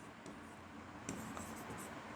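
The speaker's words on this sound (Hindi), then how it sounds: "यहाँ छोटा सा ट्रिक लिखते हैं" Pen or pencil writing by hand on paper, a faint, close scratching with a few brief strokes over a quiet background.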